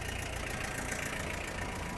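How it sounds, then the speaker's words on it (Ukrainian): A Yanmar FX-42 mini tractor engine warming up with the power take-off engaged, a steady, close idling diesel drone with a continuous mechanical whir and no voices. "Поки двигун прогрівається, включаю вал відбору."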